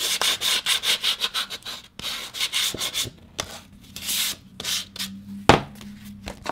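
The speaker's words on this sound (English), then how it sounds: "I'm just going to sand, bring some of that white core up, and give it a finished edge" Sanding block rubs along the edge of a paper mini-album cover in quick rhythmic back-and-forth strokes, close and fairly loud, then a few slower scrapes and a knock near the end.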